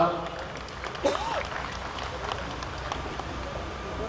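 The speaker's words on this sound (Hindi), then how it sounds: "जोरदार ताली एक बार।" Audience applause rises at a 2012 kavi sammelan poetry gathering in Badaun, a broad, moderate wash of clapping with a voice speaking over it throughout.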